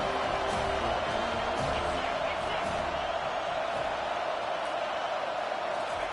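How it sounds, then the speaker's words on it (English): A stadium crowd in an NCAA 25 college football video game roars steadily as the defense lines up on third down, a continuous dense wall of cheering with a commentator talking over it. "Decibels rising as the crowd gets behind this defense on 3rd down."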